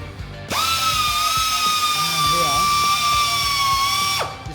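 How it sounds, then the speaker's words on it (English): A 10mm mini belt linisher spins up to a steady high-pitched whine, runs for several seconds with a slight load dip partway through, then winds down, loud and close. "A 10mm mini belt linisher."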